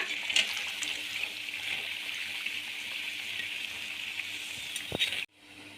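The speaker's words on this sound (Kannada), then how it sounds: "ಎಲ್ಲವನ್ನ ನಾವು ಇದೇ ರೀತಿ ಫ್ರೈ ಮಾಡಿ ಬೌಲ್ಗೆ ತೆಕ್ಕೊಳ್ಳೋಣ." Bajji fritters frying in hot oil, a steady close, loud sizzling hiss that runs unbroken for about five seconds with small pops, then cuts off abruptly.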